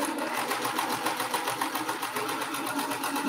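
A sewing machine stitches quilt strips for a sampler block, a steady, fast mechanical whirring with even rhythmic clicks, close and continuous with no talking.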